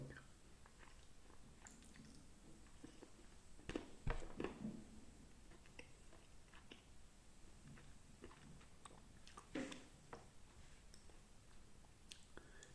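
A few crunchy bites into a chili pepper close to the mic, then quiet chewing, with faint breathing or murmuring in a hushed setting.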